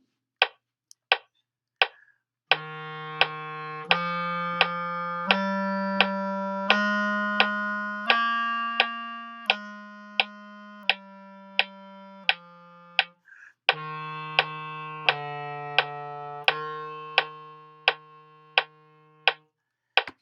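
Clarinet played as a sustained scale, low F climbing up to C and stepping back down, each note held clearly and alone, with sharp clicks of key or finger noise between phrases.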